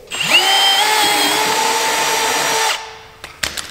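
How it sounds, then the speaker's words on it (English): A power drill spins up and bores a vent hole through a plastic jug, a loud close steady whine for nearly three seconds, then winds down and stops, followed by a few light knocks. "Drill a hole in here very neatly."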